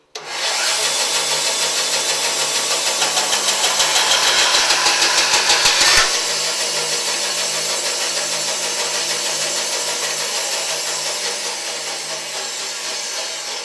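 A bandsaw resawing a piece of padauk wood in half, a loud continuous whine with a dense rasping cut that eases after about six seconds into a steady running drone.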